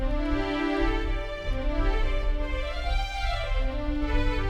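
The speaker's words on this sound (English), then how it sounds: "So it's called expressive violins. Sounds like this." An expressive violins synth patch on a Korg Triton plays sustained, gliding string chords and legato notes, rich and continuous, alone without voices.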